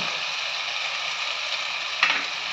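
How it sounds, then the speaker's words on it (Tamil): Spices frying in oil for green egg curry, a steady bright sizzle with a brief stirring scrape near the end, close and even throughout. "இதை நல்லா பச்சை வாசனை போகிற வரைக்கும் வதக்குங்க."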